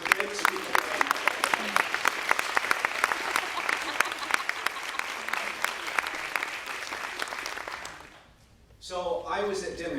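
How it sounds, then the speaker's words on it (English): Graduation audience at a commencement ceremony bursting into sustained, dense applause for about eight seconds, then fading as a voice begins speaking near the end. "So please, a round of applause to some of the greatest speakers."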